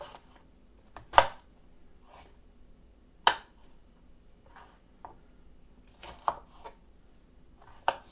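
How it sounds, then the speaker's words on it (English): Vegetables for a lunch salad, including radishes, roughly chopped on a board with close, crisp knife strikes. The chops come singly and in short pairs at uneven intervals over a quiet background. "And just do a rough chop on it."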